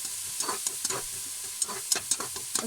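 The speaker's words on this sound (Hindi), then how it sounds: "उसके बाद हम डालेंगे 2 टीस्पून जिंजर गार्लिक पेस्ट और उसको हम थोड़ी देर के लिए भून लेंगे।" Ginger garlic paste frying with onions for a mixed vegetable dish: a close, bright sizzle with quick bursts of stirring and spatula scrapes over about three seconds, no voices.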